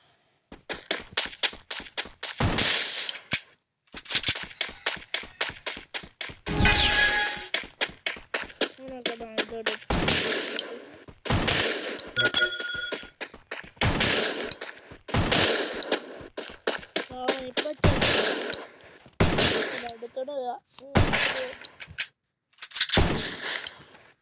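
Rapid bursts of video game gunfire crackle in repeated volleys with short pauses between, punctuated by metallic pings and dings.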